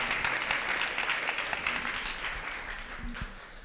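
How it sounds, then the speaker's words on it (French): Steady applause from a crowd, loud and continuous at first, then gradually thinning and fading over a few seconds. "je vous demande d'accueillir sur un tonnerre d'applaudissements François, Jordan et Luciana."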